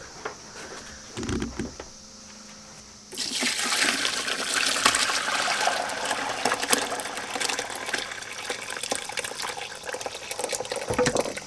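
Liquid from a cheese recipe gushes into a colander in a kitchen sink, a brief splash followed by a long, loud, continuous pour that fills the rest of the moment.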